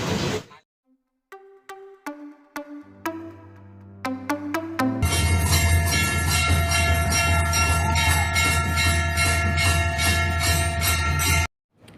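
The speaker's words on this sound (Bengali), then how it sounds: "উঠে পড়েছে এখন ট্রেনে" A train in Bagnan sounds several short horn blasts, then roars past loud and close with a dense, continuous rumble and clatter for about six seconds before cutting off.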